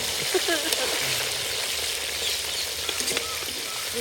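Fish fries in hot oil for a festive meat feast, giving a dense, continuous close sizzle with small crackles and pops throughout.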